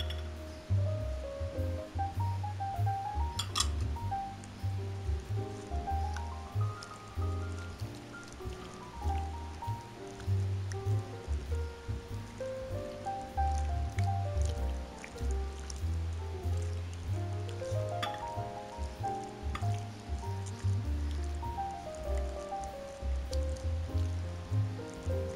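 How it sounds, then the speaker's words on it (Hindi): Fish pieces are mixed by hand with a spice marinade of yellow food colour, ginger, garlic and lemon juice, giving steady, close wet squelching and squishing sounds in an uneven rhythm throughout, with no talk over it. "येलो फूड कलर भी डाल दिया, अदरक लहसुन भी, लेमन जूस, मिक्स करेंगे"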